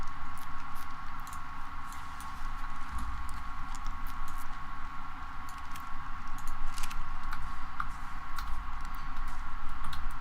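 Keys tapped on a computer keyboard in scattered light clicks over a steady low background hum, close by and with no voices.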